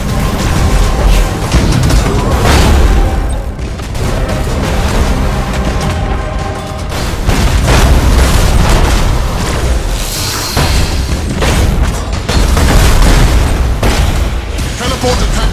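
Thunderhawk bombardment in Battlefleet Gothic Armada 2: a sustained barrage of loud, booming explosions and bursts, dense and continuous throughout, with scattered crackling blasts layered over a rumbling low end.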